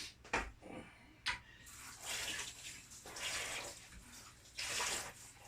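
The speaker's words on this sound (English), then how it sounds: "let me turn on the water" Kitchen water tap running while making handmade bread dough, a quiet steady splashing stream with a couple of sharp clicks near the start, faint and without talk.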